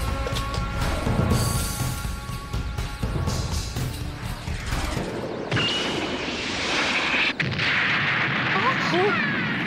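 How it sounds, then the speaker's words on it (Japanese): Dense, continuous booming and crackling bursts of daytime fireworks with a sharp whistling streak, loud and close, with a voice briefly heard, from the anime Kishin Doji Zenki. "昼間から花火じゃな。"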